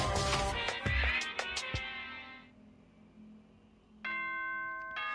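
An announcement chime from Danganronpa 2 rings out as bright bell-like tones, fades into quiet, then another sustained multi-note chime starts near the end, loud and close.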